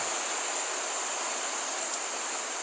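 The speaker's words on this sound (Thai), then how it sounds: "อะไรอะเสียงทะเลเหรอ" Steady, hissing wash of surf noise in a Roblox game, even and unbroken throughout, like continuous ocean waves heard close up.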